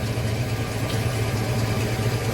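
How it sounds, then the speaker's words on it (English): A Chevrolet Avalanche idles steadily through a MagnaFlow muffler after its exhaust was bolted back together, giving a deep, even, continuous rumble with no one speaking. "So it sounds pretty good now that I put them two bolts in the exhaust. It's got the MagnaFlow muffler."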